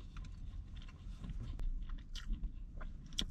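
Close, soft chewing and crunching of a flaky black pepper bacon croissant sandwich, with irregular moist bites and crackles of pastry and no talking.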